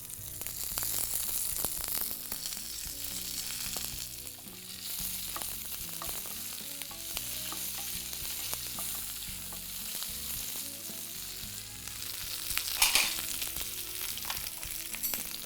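Curry leaves sizzle and crackle loudly in hot oil with dried and green chillies in a South Indian pan, a dense continuous frying hiss with stirring and no talk.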